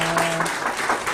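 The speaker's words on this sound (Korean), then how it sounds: "자, 박수로 인하겠습니다" Short burst of congregational applause at a Korean Presbyterian church ordination and installation service, a dense wash of many hands clapping, fairly loud and close, with a brief voice tone at the start.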